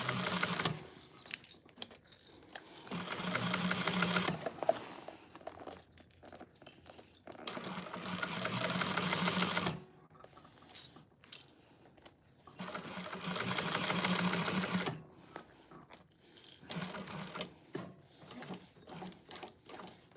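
A sewing machine with a cylinder arm stitches a handbag, pivoting with the needle down between passes, so bursts of fast mechanical stitching alternate with brief pauses full of clicks and fabric handling.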